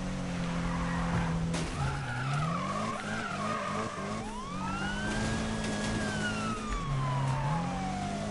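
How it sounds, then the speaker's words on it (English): Tyre skidding and engine drone from a car drifting in the Need for Speed video game, with a police siren wailing and sweeping in pitch over the continuous screech; fairly loud and steady throughout. "I'm drifting."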